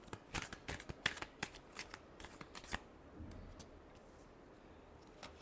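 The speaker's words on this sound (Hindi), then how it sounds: "Last shuffle." Tarot cards are shuffled close by in a quick series of crisp riffling flicks that fade to quiet handling after a few seconds, with no talking.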